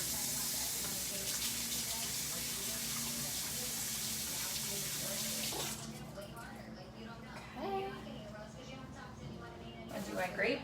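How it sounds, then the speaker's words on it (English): Tap water runs steadily into a sink while hands are washed, a loud continuous gush for several seconds that cuts off, leaving soft handling sounds and brief splashes. "I'm gonna wash my hands real quick."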